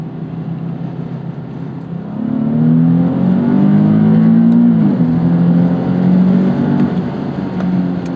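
Engine of a sports car, either a 2012 Nissan 370Z or a 2013 Scion FR-S with a torque-converter automatic, heard from inside while driving: a low hum that swells into strong acceleration, with rising pitch sweeps across gear shifts.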